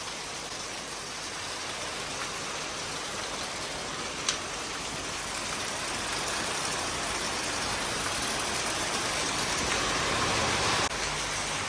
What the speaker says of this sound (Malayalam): ഇപ്പം ഇവിടെ നല്ല മഴ പെയ്യാണ്.